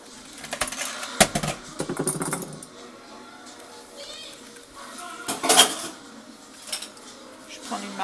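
Melted chocolate being stirred into egg yolks for a chocolate mousse, with scraping and clinking of utensil against bowl, spoon taps and rustling, close, while a person talks over it.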